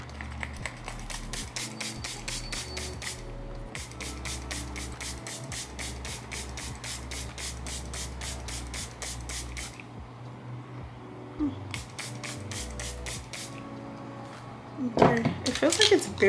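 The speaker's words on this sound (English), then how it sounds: "It feels like it's barely spraying out though." A perfume bottle sprayed in repeated quick bursts of short hissing puffs, three runs of rapid spritzes with pauses between, fairly soft and close, with someone talking over it.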